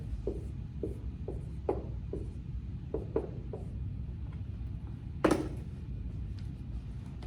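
Someone writes on a board in a quiet room, making a series of short, soft taps and strokes at an uneven rhythm over a low hum, with one sharper louder scrape near the end.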